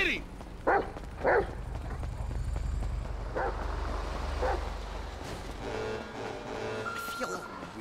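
Dog barks in the video game GTA 5: several short, loud barks come in bursts, each sitting over steady game engine rumble and other effects.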